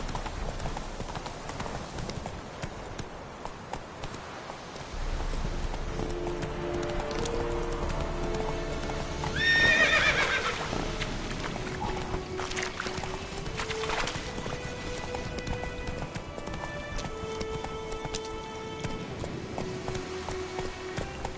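Horse galloping in The Witcher video game, a steady clip-clop of hooves running under a background of game ambience and music that swells midway.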